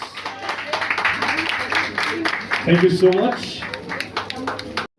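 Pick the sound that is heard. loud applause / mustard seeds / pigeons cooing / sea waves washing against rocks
loud applause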